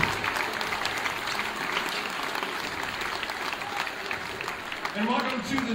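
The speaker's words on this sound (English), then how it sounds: "give a big round of applause for these outstanding officials tonight" Steady applause from a crowd at a Southwest Conference boys' basketball tournament fills the clip, with a few voices rising near the end.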